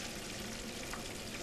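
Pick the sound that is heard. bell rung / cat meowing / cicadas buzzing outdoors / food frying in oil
food frying in oil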